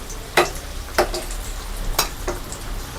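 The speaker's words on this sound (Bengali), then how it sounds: "দেখো ফ্রাই হতে দেবো" Samosas fry in hot oil with a steady, close sizzling hiss, broken by a few sharp scrapes and clinks as they are turned.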